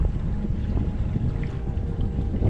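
A motorboat's engine drones low and steady, mixed with wind buffeting the microphone, with no talking.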